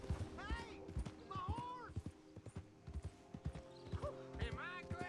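Horse hooves clip-clop in Red Dead Redemption 2, a steady run of close, distinct thuds mixed with game speech and a brief whinny-like call.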